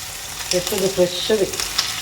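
Curry leaves sizzle and crackle as they are dropped into hot oil in a pan while a mango curd chutney is being cooked, a close, bright frying hiss with a few sharper pops over about two seconds.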